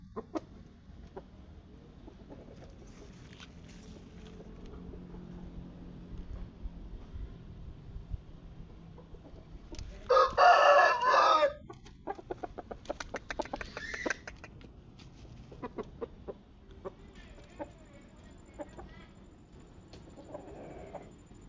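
Chickens cluck sporadically in a quiet yard, with a burst of louder squawking and flapping wings midway before things settle again.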